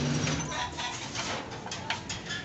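Soft, low pigeon coos murmur close by, mixed with flapping and shuffling noises in a busy enclosure.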